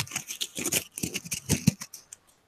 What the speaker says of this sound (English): What are you crinkling together? It's a Hershey's Kiss wrapper.